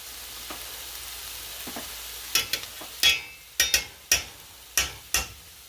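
Tomato paste frying in a hot pan, a low steady sizzle broken by a series of sharp scraping and clacking strokes as a utensil stirs and pushes it around, close and clear with no talk.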